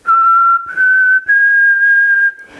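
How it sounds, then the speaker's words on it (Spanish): A person whistles alone at close range, holding a clear, steady tone that steps slightly higher across three sustained notes separated by brief breaths. "O silbar."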